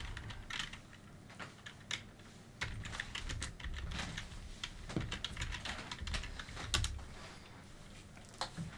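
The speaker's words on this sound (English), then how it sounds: "You're making the sound of typing." Rapid, irregular clicking of computer keyboard typing, close and fairly quiet, continuing throughout with brief pauses.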